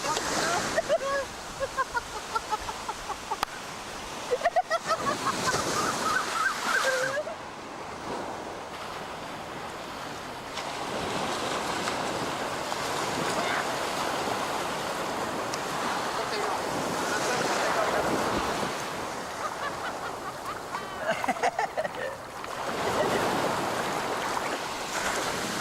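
Surf waves break and wash steadily in the open ocean off a Maldives island as a man rides his first wave, with wind buffeting the microphone and voices talking intermittently over the continuous roar.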